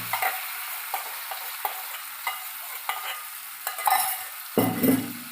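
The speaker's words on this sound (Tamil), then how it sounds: "இந்த மாதிரி நல்லா இதை கிளறி விட்டுக்கலாம்" Boiled vegetables with salt are stirred in a cooking pan, giving repeated scraping strokes and a gentle sizzle. A louder clatter and burst of frying comes near the end, close up with no voices.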